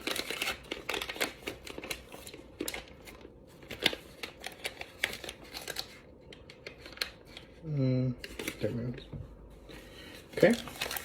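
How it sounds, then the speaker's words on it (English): Paper wrapper on a stick of butter being opened in a kitchen while baking an apple crisp, with soft crinkling and rustling in short bursts under a person talking. "I'm gonna open up a stick of butter here"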